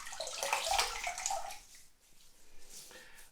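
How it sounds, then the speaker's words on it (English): Water splashed onto the face at a bathroom sink before a wet shave, a loud close burst of splashing and trickling that drops to softer dripping and running water, no talking. "So right, let's just wet the face down."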